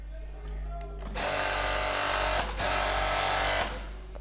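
An overlock serger runs close by while its thread tension is adjusted. It whirs in a loud, steady buzz for two bursts split by a brief pause, and a voice is heard faintly at the start.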